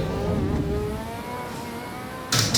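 Race car engine in Assetto Corsa EVO revving steadily with strong harmonic engine tones throughout, loud and close, ending in a sudden burst of noisy roar.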